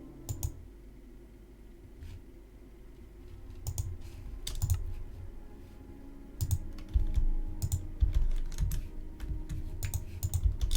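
Computer keyboard typing in quick irregular bursts of clicks and key presses, fairly close and alone with no talk, pausing briefly and then growing busier and denser in the second half.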